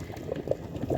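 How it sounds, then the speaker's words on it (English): Water at a rolling boil in a pot for cooking spaghetti pasta, with a soft, continuous bubbling and gurgling at low, steady volume, close by. "The water is boiling, and so we are going to cook that."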